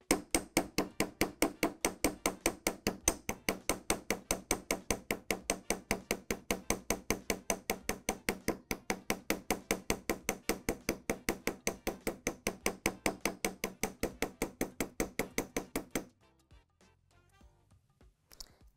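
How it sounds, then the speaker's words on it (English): A ball peen hammer texturing a hand-stamped metal ring or bracelet, striking in a fast, steady run of sharp, close metallic taps for about sixteen seconds before stopping, with no talk. "pick up my ball peen hammer, and begin to texture around the impressions I just stamped."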